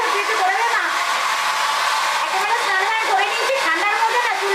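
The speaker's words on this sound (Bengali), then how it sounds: "মায়ের চুল ভেজা, ছেলে ড্রায়ার দিয়ে চুল শুকিয়ে দিচ্ছে।" A hair dryer blows steadily on wet hair, a loud, constant whirring hum with a high airy roar and no break.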